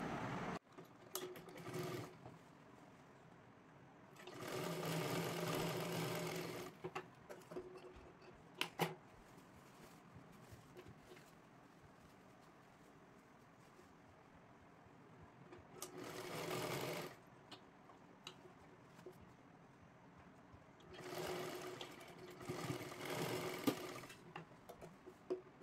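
A sewing machine sews the seams of a small girl's lehenga dress in several short bursts of fast whirring stitching, separated by quieter stretches of handling clicks and rustles.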